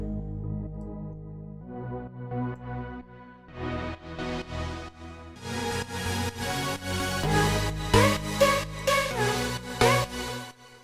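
A held synth bass note sustains in an electronic music production track as a low continuous tone, with layers building and rhythmic elements entering partway through, growing fuller and louder.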